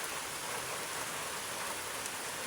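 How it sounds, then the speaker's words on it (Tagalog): Steady rain falls in a dense, even hiss with no gaps, fairly loud and close, with no voices. "Umuulan po sa amin."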